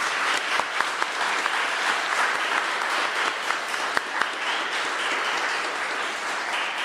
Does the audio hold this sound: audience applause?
yes